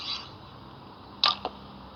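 A homemade PVC slingbow fitted with an archery release looses an arrow, giving a sharp snap followed by a second quick crack, close and brief against a quiet room tone.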